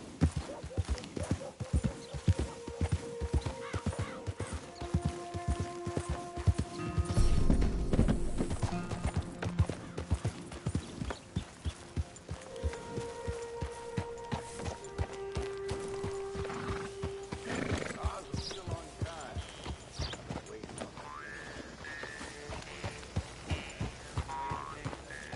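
Horses pull a stagecoach in the video game Red Dead Redemption II: a steady, continuous clip-clop of hooves runs throughout, broken by several whinnies and neighs, moderately close.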